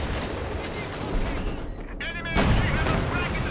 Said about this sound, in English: Do see some propaganda artillery going in.